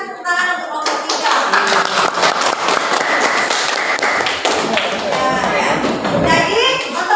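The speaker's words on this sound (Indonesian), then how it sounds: "Silakan tepuk tangan untuk kelompok 3." A classroom of students claps for a presenting group, a close, lively burst of hand claps with sharp individual slaps that runs for the whole seven seconds, with voices mixed in.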